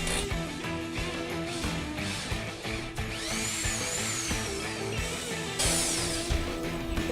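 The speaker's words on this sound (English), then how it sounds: "Now, it doesn't really matter where you drill your starting hole." Power drill boring a starting hole in a kitchen countertop, the motor whining steadily and close with shifting pitch and grinding bursts as the bit bites, running continuously with no talk.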